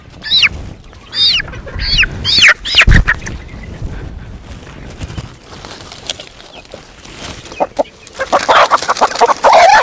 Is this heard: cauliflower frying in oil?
no